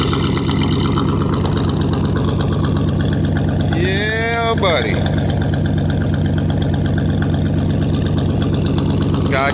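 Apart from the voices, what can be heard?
1984 Chevy Corvette engine running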